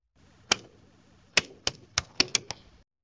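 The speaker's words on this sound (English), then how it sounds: "Keyboard clicking." AI-generated keyboard clicks from the AudioGen model: sharp, bright, about seven separate keystrokes with irregular gaps between them, close and fairly crisp.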